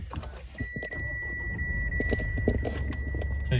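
A Mitsubishi L200 2.4 DI-D pickup fires up with a keyless start: a brief electronic chime and mechanical clicks, then the diesel catches and settles into a steady, close idle rumble.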